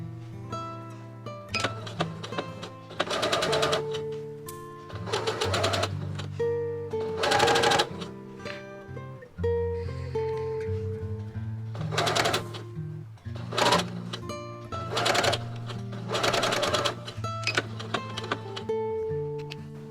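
Sewing machine understitching the pocket lining of a dress, running in close, loud bursts of rapid mechanical stitching separated by short pauses.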